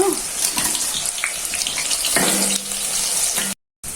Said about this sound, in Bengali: সাদা তেল দিয়ে দিলাম কড়াইতে পেঁয়াজ কুচিগুলো ভেজে নেব